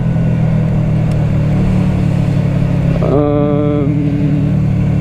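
A Honda Shadow VT125 motorcycle engine running steadily and loud up close, with a rising rev partway through.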